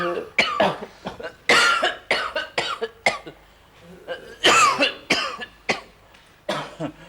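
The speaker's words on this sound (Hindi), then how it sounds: "बहुत खांसी चल रही है?" Repeated coughing from a patient in a doctor's clinic, several bursts of varying length spread across the stretch, fairly close and moderately loud.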